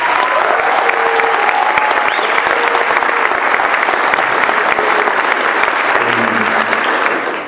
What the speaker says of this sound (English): Yeah, you can applaud.